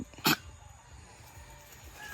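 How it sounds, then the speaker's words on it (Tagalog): A single short dog bark near the start, followed by quiet outdoor background noise on a farm. "yung aso po natin mga kaitlog"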